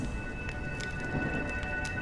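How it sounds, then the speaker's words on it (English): Steady rain falls across a video game scene, a dense, even hiss of drops with occasional brighter splatters, continuous and fairly soft, with no voices. "When will this rain ever stop?"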